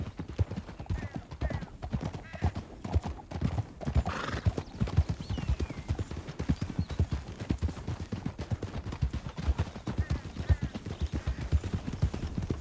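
Horses galloping in Red Dead Redemption 2, a steady rapid drumming of hooves on a canyon trail, loud and close, with a whinny early on and faint distant gunfire.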